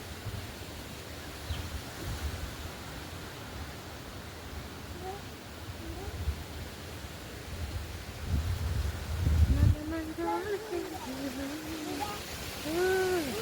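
Strong gusting wind outdoors around a house, a steady broad roar and rustle that swells toward the end, with a person talking over the later part.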